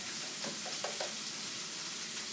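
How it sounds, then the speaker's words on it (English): Steady sizzling of ground beef frying in a pan, a constant bright hiss with a few faint clicks and stirring sounds, no voices. "I can hear the ground beef sizzling in the back"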